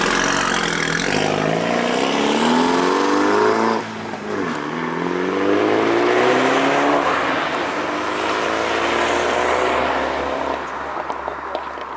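A Mini JCW with its exhaust valve open accelerates hard. The engine note climbs loudly, dips briefly at a gear change, then rises again in a long continuous pull.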